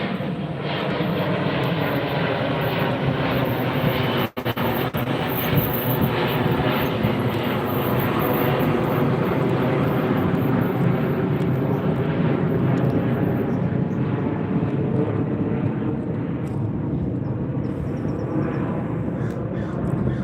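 Delta jet airliner departing LAX, heard from a nearby beach as a loud, sustained roaring rumble of engines that fills the scene and slowly fades as it climbs away.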